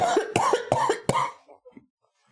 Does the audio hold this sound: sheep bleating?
no